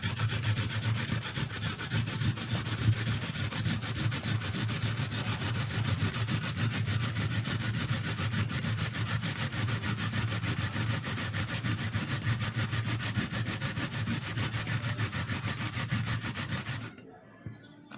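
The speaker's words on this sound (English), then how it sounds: "I'm going ahead to grate my onion." An onion is scraped against a grater in a rapid, steady rubbing rhythm, close and continuous for about seventeen seconds before stopping abruptly.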